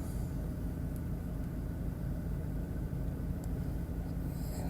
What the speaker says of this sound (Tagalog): Traffic lang.